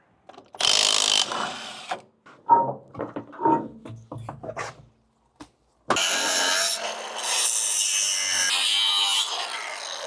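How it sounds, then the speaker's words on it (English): A grinder cleans up damaged trailer edges during accident repairs: a short harsh burst, a stretch of quieter scrapes and knocks, then a long, loud, sustained grinding run. "I'm gonna just clean these edges up, grind these down."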